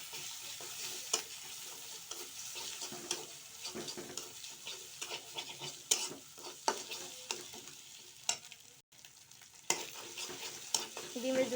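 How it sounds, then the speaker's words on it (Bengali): Eggs fry in oil with chili and onion, a soft steady sizzle broken by scraping and tapping as a spatula stirs the pan, fairly quiet and close. "মরিচ আর পেঁয়াজ ভালো করে ভাজি হয়ে গেলে ডিম দিয়ে দিব।"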